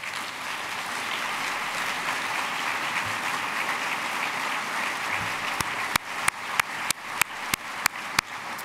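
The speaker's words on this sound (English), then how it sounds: "You applaud for him standing" An audience applauding at a city address in Houston, a broad, steady roll of many hands clapping that fades near the end into a series of sharp, isolated claps from close by.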